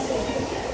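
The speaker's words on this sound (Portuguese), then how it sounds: "Agora a gente vai pegar o metrô." Rumbling metro subway train in Rio de Janeiro, a steady rail roar with faint clatter, heard close and continuous over a short stretch with background voices.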